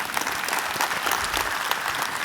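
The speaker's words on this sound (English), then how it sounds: "So give yourself a round of applause." An audience of young ladies at an inspirational talk breaks into brief, lively applause, a dense patter of many hands clapping at once from start to finish.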